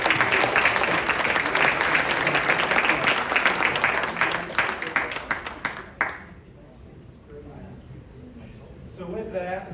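An audience at a First Fridays gathering applauds loudly for about six seconds, a dense wash of many hands, then the clapping drops away abruptly into a quiet room with faint voices starting up.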